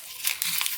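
A quarter sheet of printer paper is crumpled by hand, giving a close, continuous crinkling and crackling that lasts under a second with no voices.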